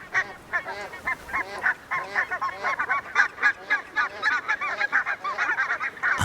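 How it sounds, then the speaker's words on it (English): A large flock of barnacle geese on a small mudflat island in the Dutch delta, honking in dense, overlapping calls that continue steadily throughout, loud and close with no talk. "I see hundreds of flocks of barnacle geese,"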